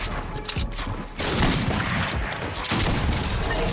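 Rapid bursts of gunfire in a Fortnite-style shooter video game, loud repeated shots in quick volleys with brief pauses between them.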